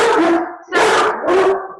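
A dog barks three times in quick succession, loud and close in an indoor room, with the second and third barks running longer and harsher than the first.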